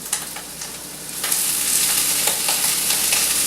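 Leafy greens drop into a hot pan and fry with a loud, steady sizzle and crackle for the whole stretch, with no voices over it.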